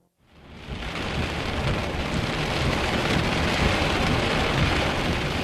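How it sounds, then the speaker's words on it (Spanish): A violent thunderstorm builds quickly from near silence into a continuous roar of heavy rain and rolling thunder, loud and unbroken throughout. "Probablemente fue después de medianoche cuando comenzó la tormenta."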